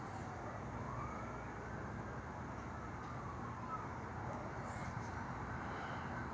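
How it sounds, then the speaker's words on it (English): A police car siren wails in the distance, faint sweeping tones over a steady background hum, with no speech. "You hear the police siren?"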